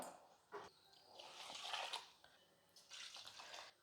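Tamarind being rinsed in plain water in a kitchen bowl, soft splashing and sloshing in several bursts, quiet and close, with no talk.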